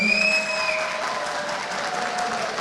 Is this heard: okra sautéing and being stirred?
no